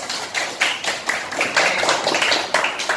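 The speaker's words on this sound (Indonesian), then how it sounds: "tepuk tangan untuk kita semua" An elementary school class claps together in applause, quick bursts of many hands rising and falling in a loose rhythm, close and fairly loud.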